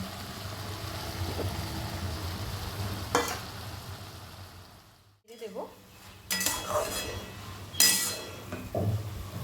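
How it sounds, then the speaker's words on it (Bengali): Fried shrimp tipped into a pan of ash gourd curry as it cooks: a steady close sizzle with a few sharp clattering bursts of utensils against the pan, a brief lull midway. "এই সময় যে চিংড়ি মাছ ভাজাটা ছিল সেটা চিংড়ি মাছটা দিয়ে দিলাম"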